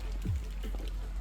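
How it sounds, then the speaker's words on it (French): Rain falls during an outdoor powerlifting session with friends, a soft, steady broadband patter that stays faint and even throughout, with no voices. "Là, ça pleut un peu plus, hein, quand même."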